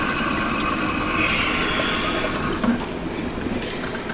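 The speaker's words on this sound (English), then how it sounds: "we have to trickle our water here because we don't have any pressure" Thin water trickles steadily from a tap with very low pressure at a rural home supplied by its own water system, a soft continuous flow with a brief splash near the end.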